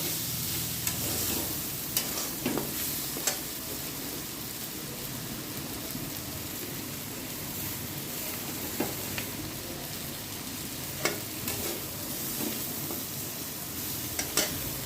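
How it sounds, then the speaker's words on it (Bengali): Bitter gourd and potatoes with spices stirred in a pan, a low continuous sizzle broken by occasional sharp taps and scrapes of the spoon against the pan, close and fairly quiet, with no speech. "এবার আমি মশলাটার সাথে উচ্ছে আর আলুটা মিশিয়ে দিচ্ছি ভালো করে।"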